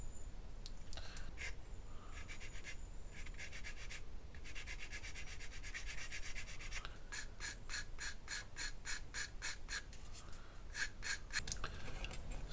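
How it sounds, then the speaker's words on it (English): A plastic part for a Revell 1/144 Flower Class Corvette model ship is sanded smooth by hand: quick rhythmic scratchy strokes come in bursts with short pauses, close and clear over a quiet background. "So I can just trim off the excess, sand it down"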